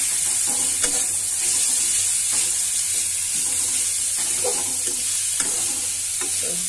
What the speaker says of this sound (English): And saute them too quickly.